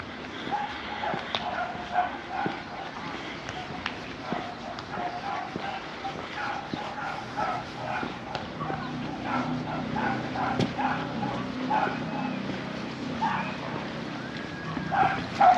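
A dog out in the sea off a Mallorca beach at Palmanova barks and yips excitedly, with repeated mid-distance barks and whimpers over steady outdoor ambience and faint background voices.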